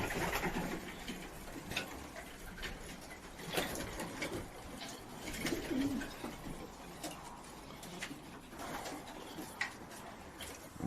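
Pigeons at a loft coo and murmur in soft repeated calls over a steady rustling background, with a few sharper clatters now and then, fairly near and moderately quiet throughout.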